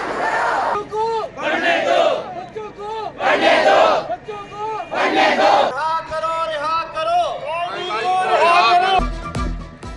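A crowd of teachers protesting outside the Civil Secretariat in Lahore over arrests, loud overlapping shouts and chanting voices rising and falling in bursts, close and continuous, ending with a sharp thump.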